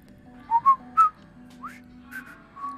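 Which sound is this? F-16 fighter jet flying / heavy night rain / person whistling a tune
person whistling a tune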